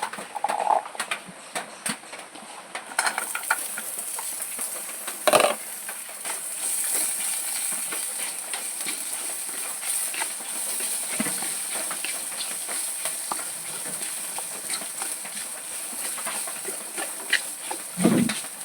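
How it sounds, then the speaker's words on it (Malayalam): Shallots and garlic tossed into hot oil with cumin and chilli for Kerala roasted-coconut sambar powder, giving a steady hissing sizzle with occasional clinks and scrapes, close and continuous with no talk. "ജീരകവും മുളകും ഒക്കെ മൂത്തതിന് ശേഷം നമുക്ക് ചെറിയുള്ളിയും വെളുത്തുള്ളിയും കൂടെ ഇതിൻ്റെ കൂടെ ഇടാം"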